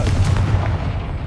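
A Confringo blasting spell cast in the Hogwarts Legacy video game, a loud, sustained deep boom with a rumbling low roar that fades slowly, no voices over it.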